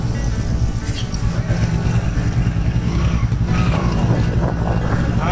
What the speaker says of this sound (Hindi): बाइक बहुत अच्छे से चल रही है।